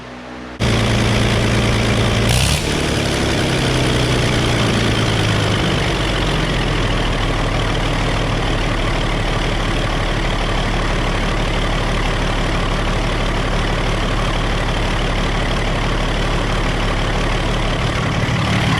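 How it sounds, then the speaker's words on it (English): A Case 930 tractor engine idles steadily after sitting unused for 14 years, a loud, continuous low rumble that starts abruptly and runs evenly without missing, with no talking. "That's idle speed right there. We're not missing on a cylinder."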